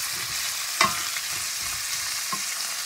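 Green beans hiss softly as they sauté in a frying pan of oil, and a spoon scrapes and stirs them with a couple of brief clinks. The sizzle is steady and fairly quiet.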